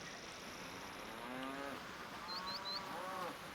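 Cows in the video game Neverwinter Nights: Enhanced Edition give a few drawn-out moos over a quiet ambient background, with faint high chirps near the end.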